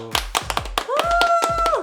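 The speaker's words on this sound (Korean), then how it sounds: "박수." A small group claps in a loose, uneven pattern of sharp hand claps at close range, with voices and a brief sung or hummed tone mixed in, at the wrap of a final day of filming.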